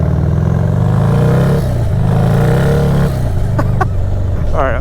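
A turbocharged Harley-Davidson 131ci Stage 4 Street Glide roars loud and close under acceleration, its steady engine drone shifting pitch, with a short rising whine near the end.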